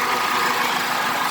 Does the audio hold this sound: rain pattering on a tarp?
no